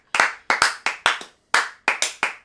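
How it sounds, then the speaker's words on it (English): Around a dozen sharp hand claps ring out up close in Japan, in uneven bursts and pairs with short silences between, like a small group giving a brief round of applause. "Let's give him a round of applause"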